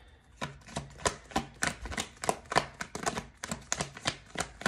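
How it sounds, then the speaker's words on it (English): Tarot cards being shuffled by hand, a rapid run of crisp papery riffles and slaps repeating in a steady rhythm, close and clear with no talking. "Let's keep shuffling."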